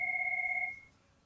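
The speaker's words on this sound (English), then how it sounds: "There is a phone call." A telephone gives one short electronic ring, a clear two-tone trill that cuts off after under a second and leaves a faint quiet tail.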